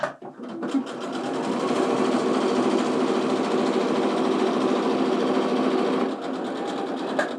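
Home sewing machine running a quarter-inch seam on quilting fabric for split quarter square triangles, a steady close motor whir and needle chatter sustained for several seconds, easing slightly near the end.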